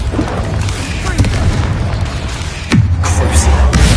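Spell impacts in the Hogwarts Legacy video game: a continuous dense rumble of booming blasts, with a sharp heavier impact near the end followed by bright crackling bursts, loud and close with no talk.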